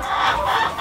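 Laying hens on a poultry farm give a short burst of close, moderately loud clucking lasting under a second.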